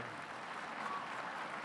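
Audience applause at a formal gala dinner, a steady wash of many hands clapping at moderate distance, continuous and even for the whole stretch with no voices over it.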